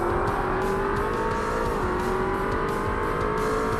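Race cars in the Forza Motorsport video game, including a fast TVR, during an endurance championship race: continuous loud engine drone with steady revving and a pitch that dips and climbs through gear changes, with no talk.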